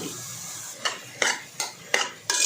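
A spoon scrapes and clinks against a pan at a regular pace while drumstick leaf and flower stir-fry is mixed, about six distinct metallic strokes over quiet background.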